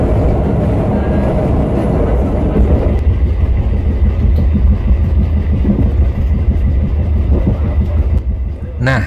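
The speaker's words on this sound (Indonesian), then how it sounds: "saat ini kereta api Airlangga sedang melintas di stasiun Gambringan" An Airlangga passenger train passing through Gambringan station in Indonesia, a loud continuous rumble and rattle of rolling wagons close by, with a voice talking over the passing carriages.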